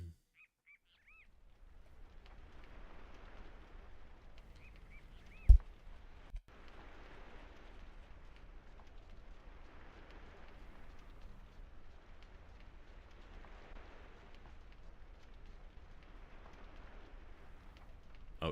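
Rain falls at night in the video game Aidyn Chronicles, a steady soft hiss that swells and fades in slow waves, broken by one sharp thud partway through, with no talk.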